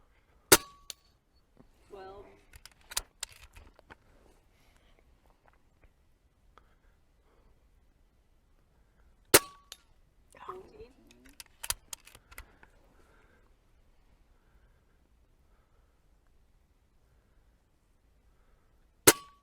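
An Umarex Notos regulated PCP micro carbine air rifle fires sharp, isolated cracks, about five shots spread over the stretch with quiet gaps, and faint voices talk between them.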